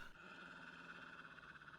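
Isis, a white dog in the Nancy Drew game White Wolf of Icicle Creek, gives a short, steady, low growl that lasts under two seconds and is faint and close.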